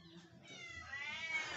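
A weak, low-energy kitten rescued after illness gives a thin, faint, drawn-out meow that rises in pitch toward the end, heard alone over soft room noise.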